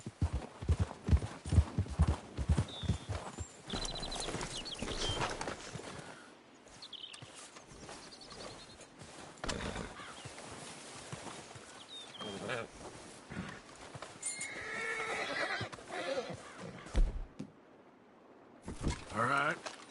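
Horses plod with steady clip-clop hoofbeats in the Red Dead Redemption 2 video game, the footfalls close and rhythmic at first, then thinning out as voices talk over the scene.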